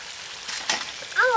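Raw potato snacks hiss and sizzle in hot oil in a wok, a soft brief frying noise with a faint voice-like tone at the end.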